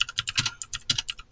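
Rapid typing on a computer keyboard while writing a document, a quick run of close, crisp key clicks with a few heavier strokes, heard alone.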